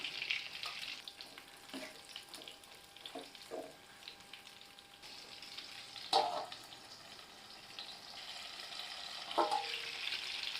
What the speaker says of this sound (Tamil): நல்லா எண்ணெயில் பிரட்டி விட்டு இதை லைட்டாக வதக்கி எடுத்துக்கோங்க.